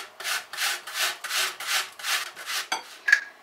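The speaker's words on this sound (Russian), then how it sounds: "Очищаем яблоки от кожуры и натираем их на крупной терке." Peeled apples are grated on a coarse grater in a kitchen, making eight steady rasping strokes in an even back-and-forth rhythm, close and fairly quiet, before a couple of small knocks at the end.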